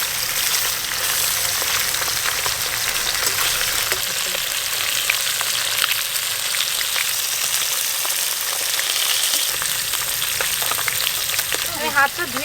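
Catla fish sizzles steadily in hot oil in a pan, a dense, continuous crackling frying sound held close and even throughout, with a burst of sharper spattering pops near the end.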